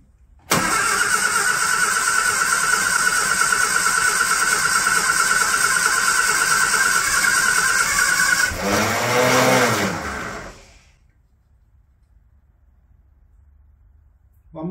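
Barn-find classic Mini ice cream van with a new starter solenoid, cranking hard and steadily for about eight seconds, then a brief surge as the engine nearly catches before dying into near silence, loud and close.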